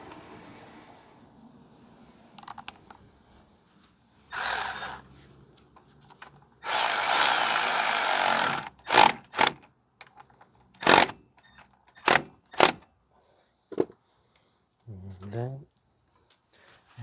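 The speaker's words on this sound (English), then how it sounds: "We're just going to tighten up the backing plate bolts." Power tool driving backing plate bolts on a 2016 Ford F-150 3.5 V6 4x4 during wheel bearing work, heard as a few loud whirring bursts and sharp clicks between quieter pauses, with speech at times.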